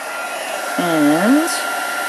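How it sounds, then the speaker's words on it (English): A heat gun melting embossing powder blows a steady, loud whirring hiss throughout, while a voice briefly hums or sings over it partway through. "Then grab your heat gun. Sorry, I'm going to have to heat it up and it's going to be noisy."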